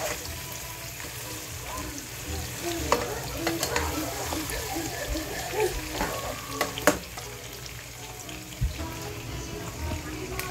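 Meat frying in a pot for Ivorian cooking, a continuous loud sizzle with repeated scraping stirs and a few sharper knocks of the utensil against the metal; faint voices now and then underneath.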